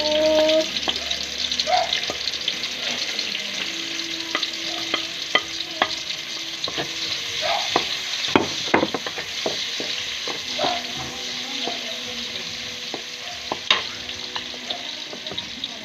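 Ingredients for ginataang mongo sautéing in a pan, a continuous loud sizzle with scattered clanks and scrapes of stirring throughout, alone without talk.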